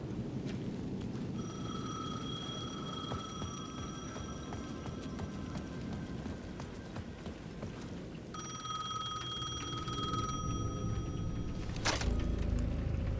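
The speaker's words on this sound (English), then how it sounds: "The payphone at the edge of the plaza was ringing again." An old payphone rings at the edge of a plaza in the video game Alan Wake 2, its electronic bell coming in two long bursts over a busy low ambient bed, with a sharp click near the end.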